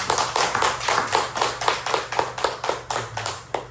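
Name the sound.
congregation applause of encouragement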